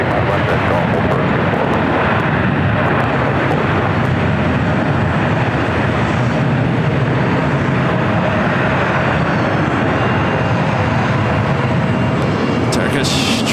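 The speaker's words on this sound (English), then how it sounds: "Turkish Dreamliner heading back to Istanbul, flight 180, now rolling down 25 right" A Turkish Airlines Boeing Dreamliner roars steadily as it rolls down runway 25 right at LAX, a loud, sustained jet rumble with radio voices talking over it.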